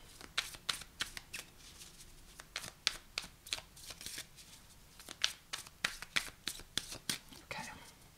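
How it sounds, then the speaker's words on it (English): A new Fountain Tarot deck shuffled by hand, quick repeated riffling card flutters in irregular bursts, soft and close, with faint whispery voice underneath. "I'm using a new deck. This is called the Fountain Tarot."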